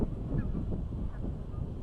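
Geese honking outdoors on a hot summer day in Rockford, Illinois, a couple of short nasal honks over breezy wind noise on the microphone.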